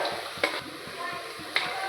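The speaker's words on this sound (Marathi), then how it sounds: "त्याची इकडे तोपर्यंत छान तडका सुरू आहे" Spices for a tadka sizzle steadily in hot oil, with two brief louder scrapes as they are stirred in the pan; no one speaks.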